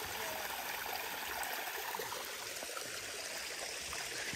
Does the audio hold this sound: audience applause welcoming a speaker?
no